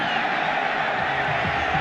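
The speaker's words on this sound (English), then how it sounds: "They're giving them a standing ovation now." Large stadium crowd roaring in a standing ovation at a 1998 NFL playoff game, a dense steady wall of cheering and whoops filling the whole moment.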